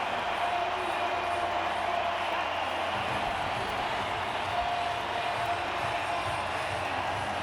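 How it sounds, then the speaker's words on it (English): A large rugby sevens stadium crowd in Vancouver roars and cheers steadily for Canada, a dense wash of noise that stays loud throughout with no pauses. "the crowd are rapturous"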